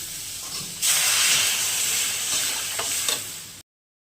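Water poured into a hot pan of spices fried down with ginger, green chilli and cumin bursts into a loud, sustained hiss that slowly fades, with a couple of small clinks near the end.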